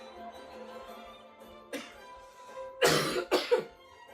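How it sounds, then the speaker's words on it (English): A few quiet, close coughs, one short cough followed by a pair of rougher ones, over faint background hum. "This cough goes away soon"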